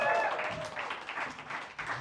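Audience applause at a stand-up comedy show fills the room as a dense, steady wash of clapping that holds for the whole stretch, with a brief whistle or cheer at the start.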